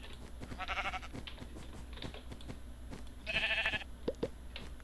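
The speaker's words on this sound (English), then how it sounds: "So it looks like I just got a bunch of sheep" Sheep bleating in the video game Minecraft, two clear wavering bleats about two and a half seconds apart, mid-loud over a steady background with soft footstep-like knocks.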